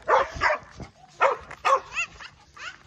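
A dog barks in a series of short, close yips and bow-wows, then trails off into rising, whining whimpers, loud and alone without talk.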